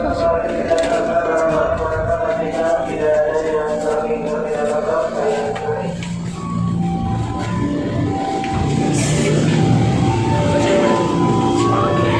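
A KRL Commuter Line train rumbles through a busy station in Indonesia, with a steady mechanical drone, squealing tonal sounds and people talking nearby.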